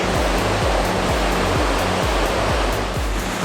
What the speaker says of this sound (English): The waves are awesome.